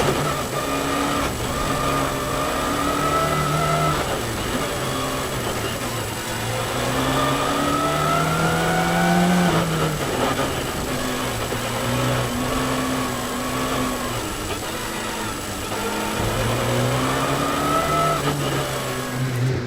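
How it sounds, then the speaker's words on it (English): Subaru Impreza and Toyota rally cars race on a Japanese rally stage, a steady engine drone with rising and falling revs as gears shift, sustained and fairly close with no voices. "The Toyota driver is up against another Impreza, driven by Takuma Kamada, which overtakes him in the 8th test"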